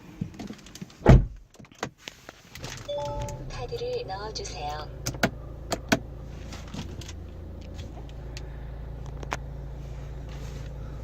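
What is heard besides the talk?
getting into car and starting engine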